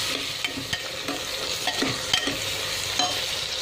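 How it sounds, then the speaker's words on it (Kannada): Chopped onions frying in hot oil in a pan for paneer biryani, a steady close sizzle broken by scrapes and knocks of stirring, with no talking. "ಇವಾಗ ಆನಿಯನ್ ಹಾಕೊತಾ ಇದ್ದೀನಿ, ಆಯಿಲ್ ಬಿಸಿಯಾಗಿದೆ."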